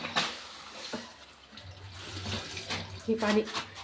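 Water runs and splashes steadily into a milk bag for a few seconds, close by, with a faint voice murmuring near the end.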